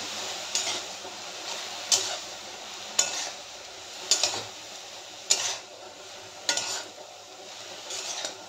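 Turmeric and chili powder fry in a pan while being stirred, with a soft sizzle under regular scraping strokes and sharp utensil clicks against the pan about once a second.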